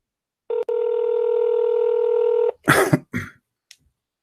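Telephone placing a call: a single long steady tone lasting about two seconds, followed by a few short bursts of noise like a cough or throat clearing nearby.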